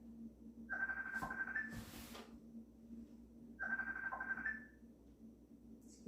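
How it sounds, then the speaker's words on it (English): A bell rings twice in a quiet indoor room during a Yin yoga class, two short bursts of ringing a few seconds apart, moderately faint over a low background hum. "Excuse my bell ringing."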